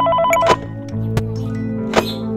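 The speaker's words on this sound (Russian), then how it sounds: "Мне звонят." A telephone rings with bright, repeating electronic tones over a steady hum, close and fairly loud, with no one speaking.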